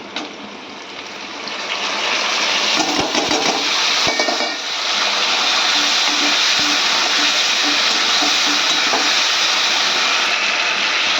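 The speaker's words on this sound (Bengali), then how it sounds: "আদা, জিরে আর কাঁচা লঙ্কা বেটে রেখেছি, টমেটো আর এটা রসুন, এটা এখন ঢেলে দেবো এর মধ্যে।" Ginger, cumin, green chili, tomato and garlic paste poured into a hot cooking pan, setting off a loud, steady sizzle and hiss that swells early and holds throughout, with a brief bubbling burst midway.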